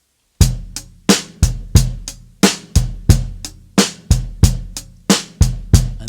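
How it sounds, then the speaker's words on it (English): A drum kit plays a beginner rock samba groove, a steady repeating pattern of sharp, loud kick and snare hits with a syncopated extra note at the end of each bar, close up and alone with no talking. "And our Rock Samba, adding in that note at the end of the bar to give us that ostinato,"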